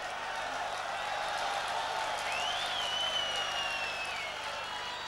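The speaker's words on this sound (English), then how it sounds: "most of them have stayed to cheer their team" Spectators at a 1996 football match between Alania Vladikavkaz and Rangers keep up a steady roar of cheering, with a whistle rising above the crowd noise.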